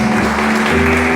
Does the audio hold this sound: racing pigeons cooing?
no